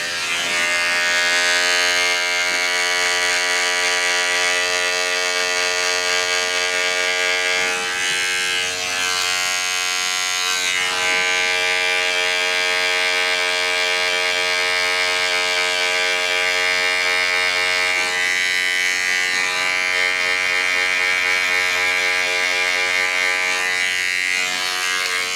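Electric hair clippers run with no guard and the lever open, cutting hair for a buzz cut and taper. A steady, loud, close motor buzz continues unbroken throughout with no talk.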